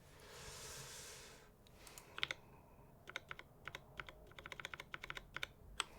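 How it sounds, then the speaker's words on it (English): After a brief breathy rush, keystrokes on a custom plateless, self-soldered keyboard with lubed Tealios V2 switches clack in quick irregular bursts, soft and close, muted thocky clicks with no speech. "This is what this keyboard sounds like. With Telios V2s, lubed with Krytox Soul 5 Grade 0, a plateless build."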